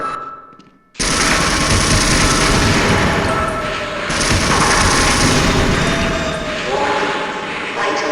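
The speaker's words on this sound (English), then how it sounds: "These automated gun turrets will kill everyone." Automated gun turrets firing in the 1998 video game Half-Life, a dense and loud burst of sustained rapid gunfire that starts abruptly and keeps going with only slight swells, with faint game sounds behind it.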